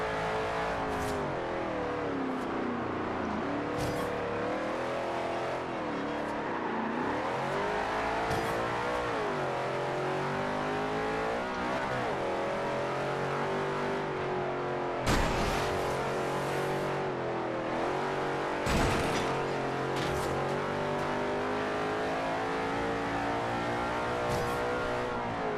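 A race car in Forza Horizon 2 revs hard through its gears in a steady, close engine roar, the pitch climbing and dipping with each shift across a long continuous run, with a couple of sharp bumps along the way.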